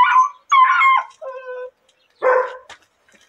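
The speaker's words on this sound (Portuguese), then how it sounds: "Aí, pessoal, olha esse cachorro." A dog gives several short barks and yips in quick succession, then a pause and one more bark, close by and loud with no talk over it. The dog is used for catching wild boar.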